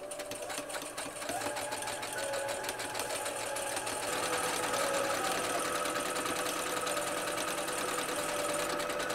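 A sewing machine runs steadily while stitching a straight seam along the edge of linen and lace fabric, a close, continuous whirring hum with a fast mechanical patter and no pauses.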